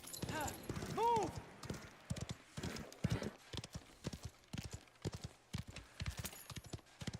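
Horse hooves clip-clop in a steady trotting rhythm during a ride in the video game Mafia: The Old Country, with a brief whinny early and someone talking over the hoofbeats.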